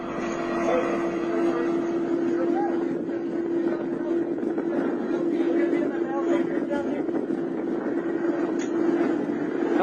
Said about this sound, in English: Is the helicopter now arriving?